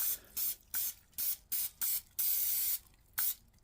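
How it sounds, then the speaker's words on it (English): Pam nonstick cooking spray hisses onto baking pans in a string of short bursts, seven or eight quick sprays and one longer blast, close and fairly quiet, with no talking. "So we got some Pam nonstick spray."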